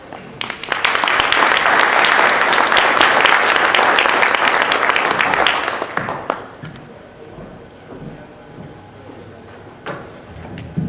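An audience applauds to welcome a speaker at a talk, a loud, dense burst of clapping for about six seconds that then fades to scattered claps and room noise.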